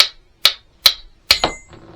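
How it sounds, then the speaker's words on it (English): A wooden hammer handle taps four times in a steady rhythm, sharp close knocks with the last followed by a short rattle, then quiet. "I'm going to take my handy dandy hammer here, use the wooden part again"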